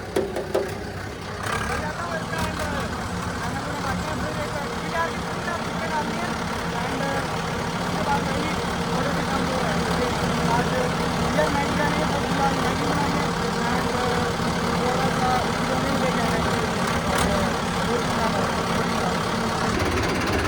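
A tractor engine with an unmodified cylinder runs steadily with a low, rumbling drone that holds constant from start to finish.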